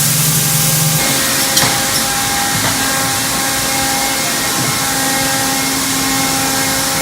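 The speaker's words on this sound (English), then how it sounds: "what it does is it goes through a grinder over here" An industrial grinder pulverizing plastic scrap in a factory gives off a loud, steady, broadband roar that fills the space without letup, with a few brief knocks and a low hum near the start.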